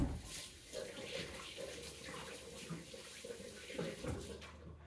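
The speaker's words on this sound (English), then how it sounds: "Let me go wash my hands now." Hands being washed under a running tap in a kitchen, with steady splashing water and gentle rubbing, close and continuous, with no talking.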